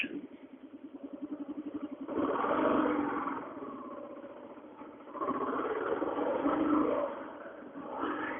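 Kawasaki KLR motorcycle engine starting and running, first a rapid chugging pulse, then a rough, louder revving rumble that rises and dips through the rest of the clip.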